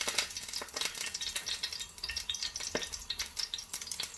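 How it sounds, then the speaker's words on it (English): Chopped ingredients fry in a hot oiled pan for a Polish-Indonesian meat serabi, giving a steady close sizzle with crackling spits and small stirring clatters throughout, with no talking. "We're gonna put them on the frying pan."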